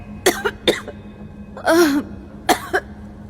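A woman coughs in a dusty basement, several short, close coughs and a longer hoarse throat-clearing burst, spaced out with quiet gaps.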